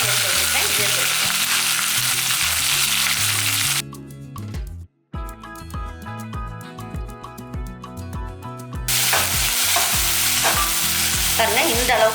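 Chopped onions frying in oil with mint leaves for channa masala, a continuous close sizzle with stirring, interrupted midway by a stretch of background music before the frying hiss returns.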